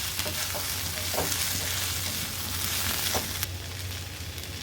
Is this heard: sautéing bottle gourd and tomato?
yes